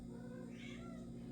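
A cat meows once, a soft drawn-out call over a constant low electrical hum, faint and indoors with no talking.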